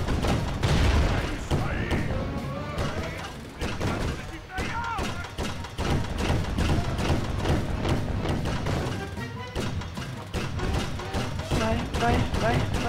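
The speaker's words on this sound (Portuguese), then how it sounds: "ele sobrecarrega o canhão" Repeated cannon blasts and impacts from the video game Sly Cooper: Thieves in Time, with an overcharging cannon firing in dense, rapid bursts alongside game music and effects throughout.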